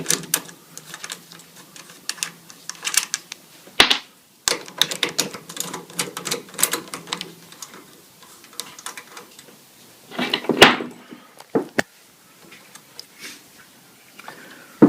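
Ratcheting clicks and metallic taps of a 10mm socket wrench loosening the carburetor mounting nuts on a Honda clone small engine, close and fairly quiet, with rapid irregular ticking runs and a few sharper knocks.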